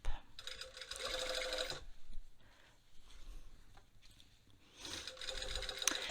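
A sewing machine stitching a facing down on a garment top runs in two bursts, one near the start and one near the end, with a quieter stretch of handling noise between them.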